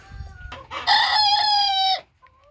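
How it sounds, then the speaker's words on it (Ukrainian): A young Chinese Silkie rooster crows once, a loud, strained, slightly hoarse call lasting about a second, with faint clucking before it and a short peep after. "Черненький півник закукарікав."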